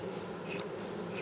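A honeybee drone, a male bee slightly larger than a worker, buzzes steadily and close by in the open air, a continuous hum with no voices over it.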